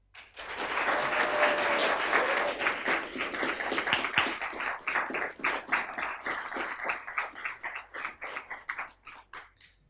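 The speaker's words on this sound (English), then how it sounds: "if you could please join me for the first time in a round of applause for our newly elected town" A room of people gives a sustained round of applause for a newly elected town council at its inaugural meeting, dense clapping that builds, then thins into scattered individual claps by the end.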